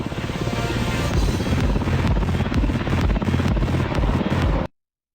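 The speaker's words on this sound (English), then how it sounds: "There's no pilot inside this helicopter" An autonomous, pilotless Black Hawk helicopter thunders close by with a rapid, pulsing rotor beat and a whining engine, steady and loud before cutting off abruptly.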